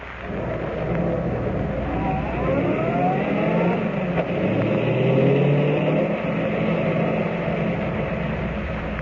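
A car on the road up to an old abandoned gold mine gives a continuous engine drone with slow rising and falling pitch sweeps, steady and fairly loud throughout, with no speech.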